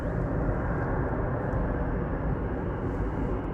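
An airliner arriving at Manchester Airport gives a continuous, fairly loud rumbling engine roar that stays steady for the whole stretch, with no speech.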